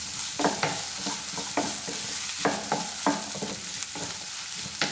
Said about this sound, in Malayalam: ഇനി സവാള ഒരു ലൈറ്റ് ഗോൾഡൻ ഷെയ്ഡ് ആണോ വരെ തന്നെ നമുക്ക് നന്നായിട്ടൊന്ന് വഴറ്റിയെടുക്കാം